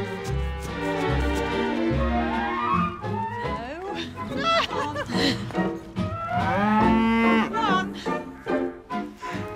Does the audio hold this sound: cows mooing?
yes